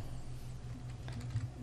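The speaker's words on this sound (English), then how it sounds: "type my email address" Keys clatter on a computer keyboard as an email address is typed into a new Outlook message, a quiet, steady run of soft taps over a low background hum, with no voices.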